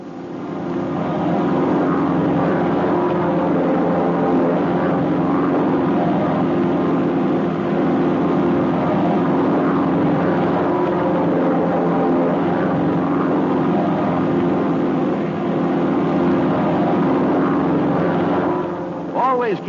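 Several propeller training aircraft in formation flight produce a continuous, loud droning roar of engines and airscrews, even and sustained from start to end, near and steady.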